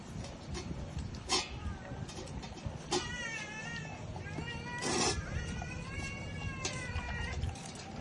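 Cats meow repeatedly near the microphone during a meal of sinigang na tilapia with kangkong, with several rising, wavering cries over a background of people talking and eating-table noise.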